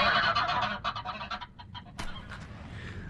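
A goose honking loudly and close by, a rapid run of harsh, nasal honks that thins into a few scattered calls, then one more sharp burst, with no talk over it.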